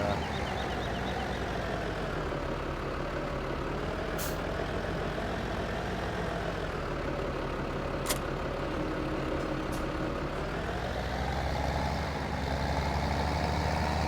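Truck engine in Farming Simulator 17 drones steadily at a constant rumble throughout, with a few brief high clicks and a faint air-brake-like hiss, no talk.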